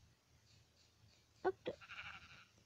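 Sheep bleating in the Minecraft video game, two short sharp cries close together followed by a longer wavering bleat, heard over quiet background game noise.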